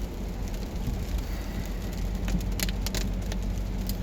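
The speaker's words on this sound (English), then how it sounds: "Of course, it's raining." Rain falls steadily outside as a continuous soft hiss with a few sharper drips, heard alone at moderate level.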